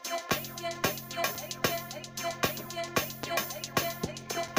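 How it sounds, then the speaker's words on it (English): A ghost pad synth in FL Studio Mobile holds sustained tones under a steady, evenly spaced beat of punchy hits about twice a second, looping for several seconds at moderate volume, with no voices. "this is how the ghost pad sounds like"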